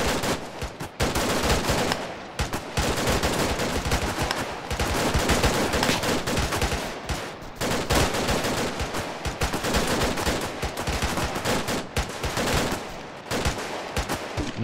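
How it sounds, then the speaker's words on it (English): Sustained gunfire, rounds fired in slow bursts toward the east, loud and continuous with dense overlapping shots and brief gaps, no voices. "so let's put some rounds out to the east. Just slow red fire."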